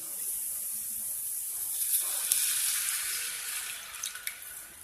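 Tamarind water pours into a pan for a garlic pickle, a soft, steady liquid rush up close that swells in the middle and ends with a few brief drips and splashes.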